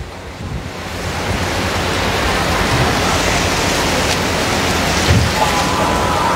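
Heavy rain in Malaysia pours down as a dense, loud, continuous roar of hiss and patter, steady throughout with no voices.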